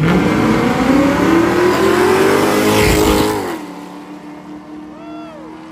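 An off-road Corvette at a drag and drive event with nostalgia funny cars roars loudly down the drag strip, its rising engine note climbing steadily before fading into the distance, leaving a quieter background.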